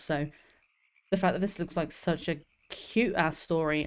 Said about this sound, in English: Oh, the frogs, I can just hear the frogs in the background.